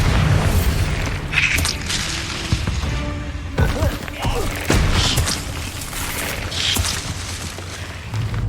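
Bombarda spell blasts in the game Hogwarts Legacy, heavy booming explosions with crashing debris layered over loud action-game effects, dense and close, several hits across the stretch.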